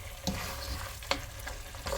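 Garam masala and cumin powder being gently stirred into a frying Bangladeshi lamb curry, a dense sizzle with a few quick spatula scrapes and taps in a brief burst.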